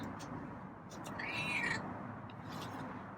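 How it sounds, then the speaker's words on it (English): A single short meow from a feral cat rises over a steady background hum, brief and moderately close, with faint room noise around it. "Yeah, there's that meow."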